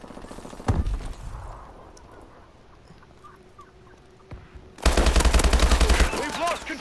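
Rapid automatic gunfire from Call of Duty Advanced Warfare team deathmatch, a short loud burst early then a sustained hammering stream near the end, with quieter game noise between.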